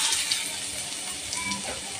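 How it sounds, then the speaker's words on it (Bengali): Fish roe pakoras spitting in hot oil, a soft continuous sizzle with light crackles, faint and steady throughout. "এই মাছের ডিমের পকোড়াগুলো সাদা তেলেই ভাজবো"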